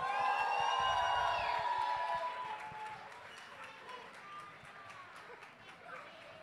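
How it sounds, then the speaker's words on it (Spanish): A crowd at a Spanish battle-of-the-bands contest applauds and cheers for an introduced guest, loud and dense at first, then tapering into a thinner patter of claps and scattered whoops. "quiero un muy fuerte aplauso para Cris Fuertes"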